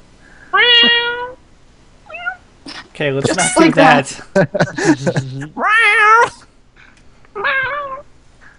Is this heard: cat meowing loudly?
yes